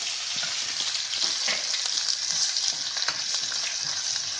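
Steady, close sizzling of whole spices such as cinnamon and cloves with garlic-ginger paste frying in hot oil, with faint scraping as they are stirred around the pan.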